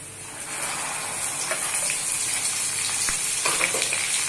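Okra hits browned garlic in a hot pan on a low to medium flame, setting off a loud, steady sizzle with faint stirring and scraping over a few seconds.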